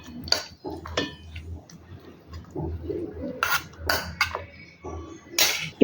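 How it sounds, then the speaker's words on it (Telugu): Cooked, cooled tomatoes are scooped into a mixer jar, giving scattered clinks and scrapes of a spoon against the jar and utensils, close and intermittent, with a few sharper knocks. "మిక్సీ జార్లో వేసేసుకుందాం"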